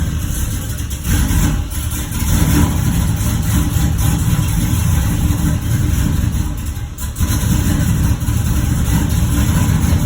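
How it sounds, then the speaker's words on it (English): An LS-swapped Impala SS, just started on a cold day after a fuel injector swap, idles loud and close with a steady deep rumble and one brief dip in the middle. "Gotta let it warm up a little bit, let it idle down"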